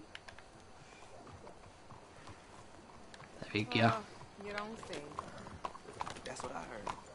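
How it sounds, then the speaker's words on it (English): Horse hooves clip-clopping while riding in the Red Dead Online video game, a walking rhythm under a short spoken phrase and some game sounds. "shall we hop back on our horse and carry on riding?"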